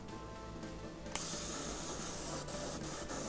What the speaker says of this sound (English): just spraying out the color so it's nice, soft, and subtle